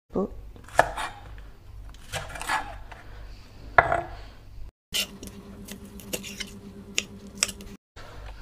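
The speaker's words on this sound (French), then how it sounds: "Après, je coupe la chive en deux." Knife chopping chives on a cutting board while preparing Korean spicy pork stir-fry (jeyuk bokkeum), with sharp irregular cuts and board knocks, some under speech.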